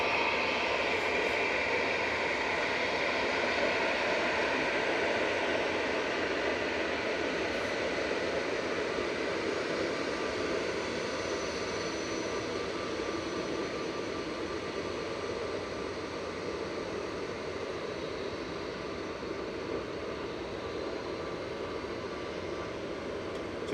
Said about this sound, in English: That was EasyJet to Naples departing there.